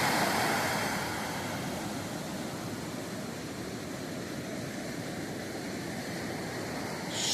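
Ocean surf rolling in on a moonlit May night at Myrtle Beach on the Atlantic, a steady broadband wash of breaking waves with a slight swell at the start, no voices.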